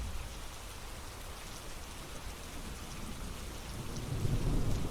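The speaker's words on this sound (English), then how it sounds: "Listen to the sound of the rain gently falling in the background." Steady rain falls with low rumbling thunder that swells louder toward the end, a dense, constant wash of sound with no talking.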